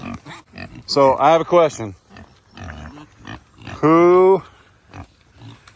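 A pig in a farm feed area shared with donkeys gives loud, close grunts and squeals in short bursts, while someone talks over and between them.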